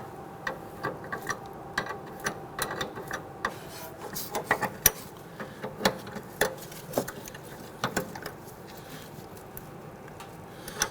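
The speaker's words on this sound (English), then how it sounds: "you can go ahead and use your wrench to go ahead and run that down." A wrench ratcheting down a rear brake hose line fitting on a 2010-2019 Ford Taurus, steady quiet clicks in an irregular rhythm, close and alone.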